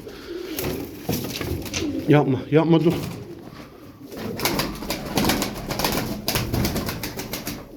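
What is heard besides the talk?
birds cooing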